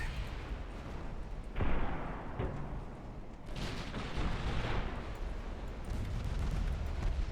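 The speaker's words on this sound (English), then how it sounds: "Destroyers, engage torpedo attack." Destroyers launch torpedoes in the naval strategy game Ultimate Admiral Dreadnoughts, heard as a steady rumbling wash of battle noise with a few sharp bursts and heavier booming swells, with no voices.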